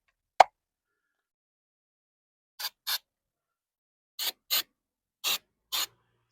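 An aerosol can of undercoating sprays in six short hissing bursts, some in quick pairs, after a single sharp click at the start. Silence separates each burst.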